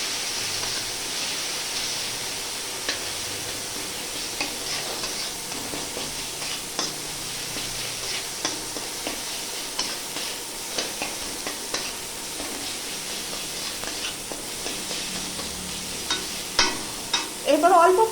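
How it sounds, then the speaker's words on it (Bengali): Spice paste of ginger, coriander, cumin, turmeric, chili powder and salt sautéing in a pan, a steady broad sizzle with frequent scraping stir clicks that grow busier toward the end, no talk. "দিয়ে আমি ভালো করে কষে নিচ্ছি মশলা"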